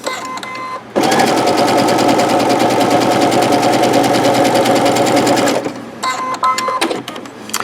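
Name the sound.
sewing machine edge stitching fabric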